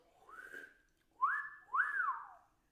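A person whistles three short notes, the first softer and the next two louder, each gliding up, holding and dropping away, alone in a quiet room.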